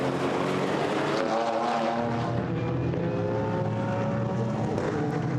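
Aston Martin GT4 race car lapping the Nürburgring during qualifying, a loud continuous engine drone with shifting harmonic tones as it passes and carries through, steady throughout with no talk.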